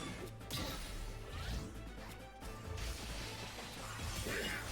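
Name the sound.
weak point smash in Hyrule Warriors video game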